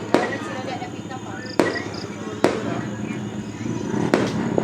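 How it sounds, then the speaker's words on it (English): Fireworks burst outdoors in a series of sharp, loud cracks spaced a second or more apart, over a steady background of crackle and insect-like chirping. "More fireworks displays."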